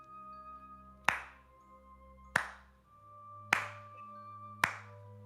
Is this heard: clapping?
yes